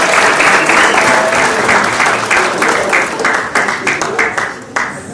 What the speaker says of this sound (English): So please can you give him a warm round of applause.